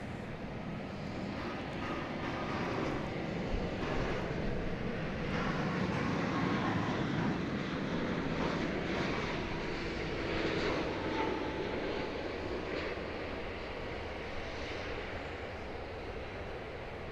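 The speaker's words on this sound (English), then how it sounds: "We've got a flight coming in from Maui right now." A Boeing 787 Dreamliner, American Airlines Flight 116 from Maui, arrives at Dallas Fort Worth airport with a steady broadband jet roar that stays fairly even and moderately loud throughout, with no voices.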